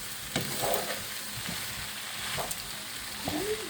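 Pasta frying and being stirred in a pan, a moderate continuous sizzle with soft scraping stir sounds and occasional faint clinks, fairly quiet and close.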